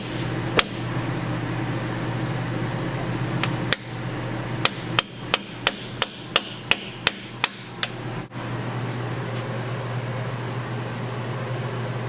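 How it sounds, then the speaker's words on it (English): A hammer drives an axle seal into a 1965 Ford Mustang axle housing through a socket on an extension, giving about a dozen sharp metallic taps, first a few spaced strikes and then a quick even series, over a steady background hum. "Just hammer that seal in square until it bottoms out and doesn't go any further"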